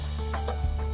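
Battered cauliflower pieces frying in hot oil give a soft, steady sizzle with a couple of brief crackles, close and fairly quiet, with no voices.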